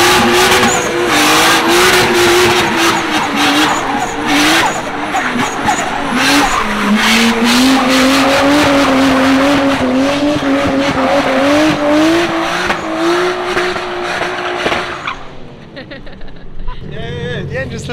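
A car with cracked piston rings doing doughnuts, its engine revving hard with a rising and falling whine as the tires squeal for about fifteen seconds, loud and close, then dropping to a quieter idle while people talk.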